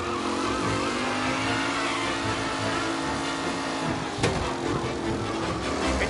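Race cars in a racing video game, engines droning steadily at high revs with a tight pack close together, and a brief sharp crack or impact near the end.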